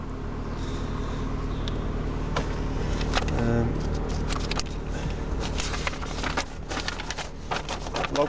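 An MG TF engine idles steadily after starting, a low continuous hum with scattered clicks and knocks from inside the car.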